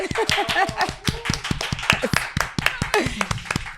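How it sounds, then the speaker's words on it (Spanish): Studio audience of a talk show clapping hard on request, a brisk run of sharp, close hand claps with a voice talking over them at the start. "¡Aplausos! ¡Fuerte, por favor!"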